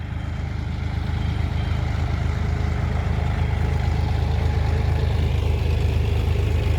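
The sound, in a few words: John Deere tractor engine idling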